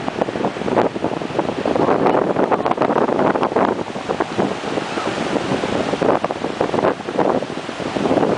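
Pacific Ocean surf and strong wind at the shoreline, a continuous roaring wash of waves with heavy wind buffeting the microphone throughout.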